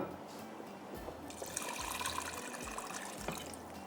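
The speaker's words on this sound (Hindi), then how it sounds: "मुझे पानी डालने की ज़रूरत पड़ेगी।" Water is poured into a pot of Delhi-style nihari full of meat, a quiet splashing trickle that rises after the first second and then continues faintly, with no voices.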